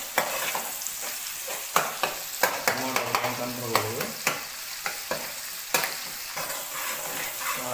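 Chopped onions and tomatoes fry in oil in a pan while a spoon stirs them, giving a constant low sizzle broken by repeated scraping and clacking strokes, close up and without talk.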